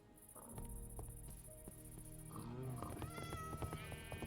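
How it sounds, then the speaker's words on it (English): A cat meows in the Minecraft video game, a few short rising mews near the end over a steady high insect-like hum and ambient game sounds, without talking. "Here, another cat."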